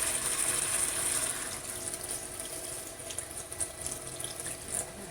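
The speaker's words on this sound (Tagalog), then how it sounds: "Tubig." Tap water runs steadily into a pot or sink as part of cooking pork stew in a solar cooker, a broadband hiss under faint clinking, with no talk.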